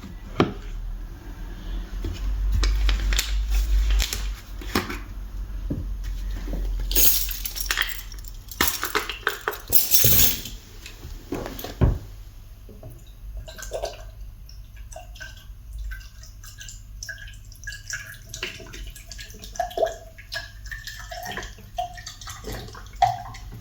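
Central heating inhibitor liquid poured into the system, with a sustained watery rush at first, then trickles, drips and small clinks against a quiet background, close by with no talk.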